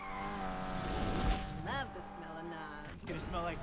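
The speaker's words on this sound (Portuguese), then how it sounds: "Pra driftar, eu preciso dar só um toquinho no freio." Car drifting in the video game Need for Speed Unbound, steady engine drone with rising and falling whines, mixed under game music and effects.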